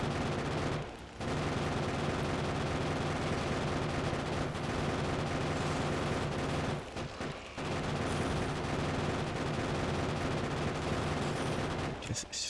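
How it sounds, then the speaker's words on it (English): Relentless automatic gunfire from the factory-building game Factorio rattles loudly and densely for several seconds, breaking off briefly twice and then resuming, harsh and continuous. "That gunfire noise is far louder than it needs to be."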